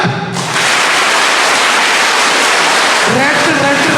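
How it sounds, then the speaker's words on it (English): Children and parents at a school science event clap loudly and continuously, a dense close roar of hands that begins abruptly, with voices rising over it near the end. "Clap."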